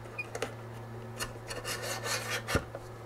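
A Longer B1 30W laser module slides along a dovetail mount on the gantry, giving a few short scraping, rasping rubs with small clicks, close and fairly quiet over a steady low hum.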